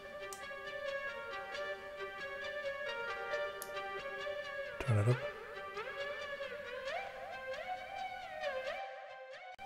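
A synthesized flute melody in Tracktion Waveform, played without legato so each note starts separately, moves through distinct stepped pitches with steady sustained tones; a brief voice cuts in midway.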